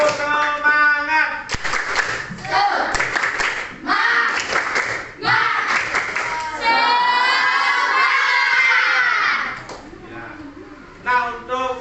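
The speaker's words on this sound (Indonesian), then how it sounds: "Tepuk semangat." A class of children claps a rhythmic spirit-clap pattern together, their loud voices chanting and shouting over the beats in a busy classroom; the claps are partly buried under the chorus of young voices.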